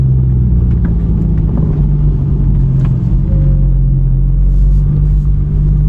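A Porsche 911 997 GT3 RS with its 3.6-litre engine rumbles loud and close, a steady deep idle drone with a faint higher tone joining partway through, no voices over it.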